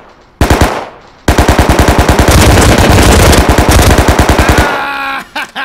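Video game gunfire fired from the hip: a short opening burst, a brief pause, then a long loud rapid automatic stream of evenly spaced shots, followed by a few mechanical clicks and rattles as it stops.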